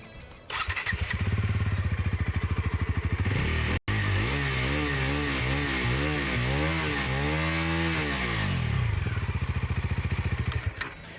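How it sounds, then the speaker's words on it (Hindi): A Bajaj Pulsar NS400Z motorcycle with a 373cc engine idles with a steady thumping exhaust, then revs up and down several times in rising and falling sweeps before settling back to idle. "अब इसके अलावा एग्जॉस्ट नोट साउंड कैसा करता है वो भी आपको मैं सुनाता हूँ"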